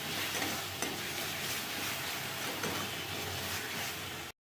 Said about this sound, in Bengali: হলুদ দিয়ে ভালো করে কষে নেবো মশলাটাকে।